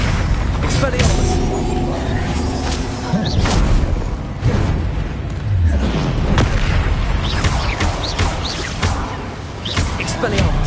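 Expelliarmus and other combat spells firing in Hogwarts Legacy on PS5, with booming impacts, whooshes and bursts piling up under a spoken voice, loud and continuous.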